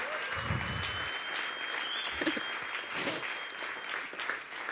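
At a church worship gathering, audience applause continues at a steady level while someone briefly speaks over it near the start and scattered whoops rise above the clapping.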